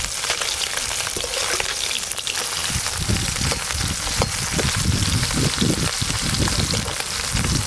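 Small salted, turmeric-coated fish fry in hot oil with a loud, busy crackle and sputter, bursts of popping swelling in the second half as the pieces are turned.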